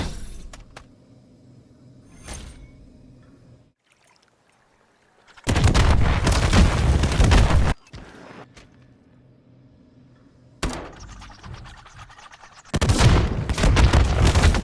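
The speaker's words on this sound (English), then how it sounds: "You want to aim up and line up the bottom of your crosshairs with the top of the palm tree like this and start shooting." Sustained automatic gunfire from a shooter game, Modern Warfare III, comes in two loud, dense bursts of about two seconds each, separated by quieter stretches of low ambient rumble and faint clicks.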